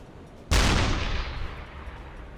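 A single heavy deck-gun shot fired at a ship in the submarine game UBOAT, a loud close boom with a long rumbling decay.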